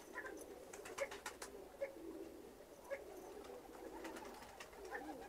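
Fancy pigeons, crested and patterned breeds, coo in low throaty rhythmic calls that repeat every second or so, layered with faint higher chirps from nearby birds in a loft.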